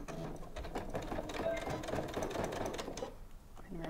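A Janome sewing machine stitches fabric along a folded edge, with a rapid, steady mechanical whir and needle clatter running at low volume beneath continuous talk.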